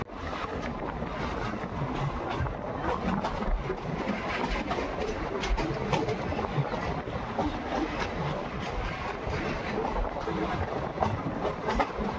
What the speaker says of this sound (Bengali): প্রান্তিক স্টেশনে কিন্তু আমাদের ট্রেন ঢুকলো